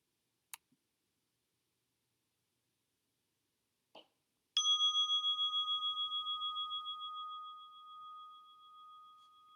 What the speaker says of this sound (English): and then ending with the bells